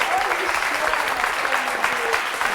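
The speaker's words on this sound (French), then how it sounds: "On peut applaudir très fort Sophie qui, elle, n'a pas peur." Loud studio audience applause for a guest on a French talk show, dense steady clapping throughout with faint voices mixed underneath.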